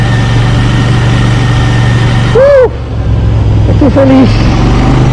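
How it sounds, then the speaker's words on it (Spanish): A Royal Enfield Continental GT 650 twin-cylinder motorcycle rumbles steadily and loudly while being ridden at low speed in third gear, a smooth continuous engine drone with someone briefly speaking over it. "Un bicilíndrico con 0 vibraciones."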